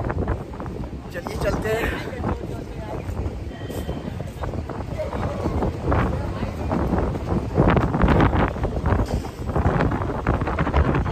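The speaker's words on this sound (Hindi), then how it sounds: "बहुत तेज हवा चल रहा है" Strong wind gusting by a river in Rishikesh after rafting, steady broadband roar buffeting the microphone throughout, with people talking over it.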